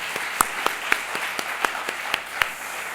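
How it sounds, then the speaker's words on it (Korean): Scattered applause from a church congregation during a Sunday service, a few sparse claps spread over a quiet room at moderate distance, fairly light and uneven. "우리 박수로 함께 영광 드리겠습니다."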